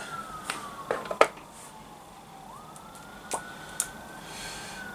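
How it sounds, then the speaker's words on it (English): Emergency vehicle siren wailing outside at a distance, a faint rising and falling tone, with close sharp clicks and taps indoors. "seems to be a lot of sirens everywhere, but it's nothing new for around here"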